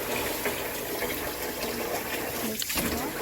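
Steady running tap water pours over grapes being washed at a kitchen sink, a close, continuous gush with a brief shift in splashing near the end.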